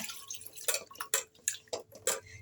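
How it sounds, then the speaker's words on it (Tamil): Water is poured into cooked lentils for lemon rasam, giving a series of distinct splashing drips and plops, close and fairly quiet, spaced unevenly about every half second. "இப்போ இதுக்கு தேவையான தண்ணி எடுத்து ஊற்றிங்க"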